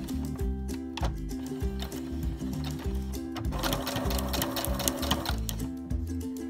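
Domestic sewing machine stitching thick bias binding on a fabric bib, a steady rapid mechanical clatter in even rhythm that briefly quickens in the middle, close and continuous with no talk.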